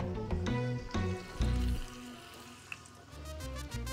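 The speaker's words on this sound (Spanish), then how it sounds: "A freír para nuestros pataconcitos." Green plantain slices dropped into hot oil in a pan for patacones, a few sharp splashes and clatters settling into a soft steady sizzle, close and fairly quiet.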